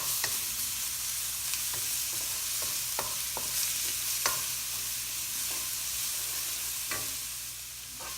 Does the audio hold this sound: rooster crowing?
no